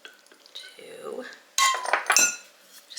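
A utensil stirring eggs and melted butter in a bowl, making a few soft scrapes followed by louder clinks and taps against the dish, close up and intermittent.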